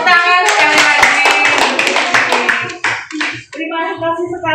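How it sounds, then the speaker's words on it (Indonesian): An audience claps together after a cooking demonstration, a burst of clapping loud and close that thins out, with a voice talking over and after it. "Tepuk tangan sekali lagi."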